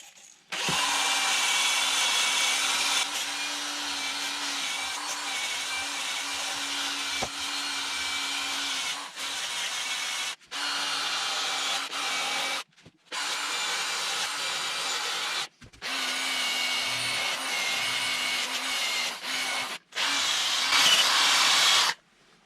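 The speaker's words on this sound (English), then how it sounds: "we've got the wire wheel on the drill" A cordless drill fitted with a wire wheel scrubs grime off the eccentric chain adjuster from a Triumph Speed Triple motorcycle's rear hub, running in about eight close, whining bursts separated by brief pauses.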